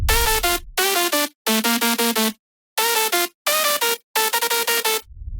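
A bright, harmonically rich drum and bass synth lead built from three processed layers plays the drop's section A melody in loud, choppy phrases of rapid stabs with short gaps, alone and up front.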